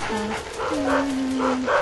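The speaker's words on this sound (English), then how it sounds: "That dog don't like me." A dog in Luigi's Mansion lets out a few short, near growling barks and whimpering yips in quick succession, fairly loud and clear, with game sounds in the background.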